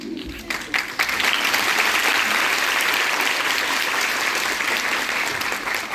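An auditorium audience claps, starting thinly and swelling after a moment into a full, even wash of applause that holds steady to the end.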